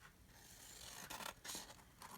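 Scissors snipping and scraping through excess wrapping paper for a card craft project, a few quick close crisp cuts in short bursts, quiet with no talking.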